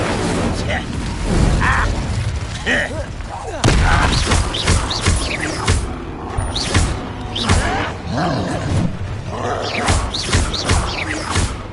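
An Incendio fire spell in Hogwarts Legacy erupts among repeated booming, crackling combat blasts and roars, loud and dense throughout, with a voice shouting spell names over the din.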